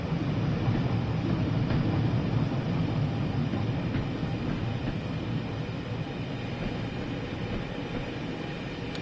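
A BR Class 86/2 electric locomotive from the game Train Sim World 5 runs on an intercity passenger service, a steady rumbling roll with a faint rhythmic rattle, continuous and even throughout.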